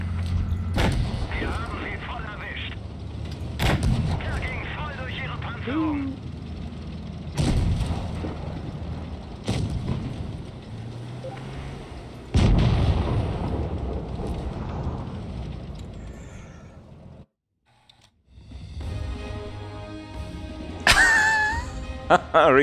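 Repeated heavy cannon blasts from tank gunfire in a multiplayer tank game, booming every few seconds and mixed with a speaking voice, then a brief near-silent gap before more game sounds.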